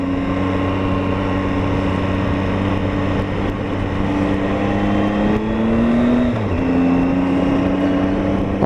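Motorcycle engine climbing the Bealach Na Ba (Applecross Pass) road, a steady loud drone with wind rush, the pitch shifting as it changes gear near the end.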